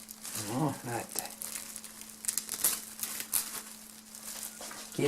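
Plastic film crinkles and rustles while covering bread dough in a warm water bath, several bursts of crackling handling noise, close and moderately loud with a voice talking over parts of it.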